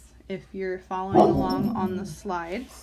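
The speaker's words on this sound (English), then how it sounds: "apologize for that, that was my dog." A pet dog barks and yips several times nearby, cutting over a person lecturing on chemistry indoors.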